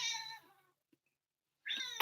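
A cat meows twice, a drawn-out call followed after a quiet gap by a second, sharper meow, close by and alone.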